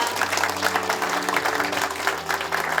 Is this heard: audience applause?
yes